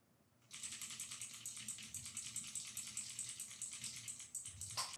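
Rapid, continuous tapping on a desk picked up by a Fifine AM8 USB microphone, a dense rattling clatter that starts abruptly and keeps going close-up and fairly loud, with no talking.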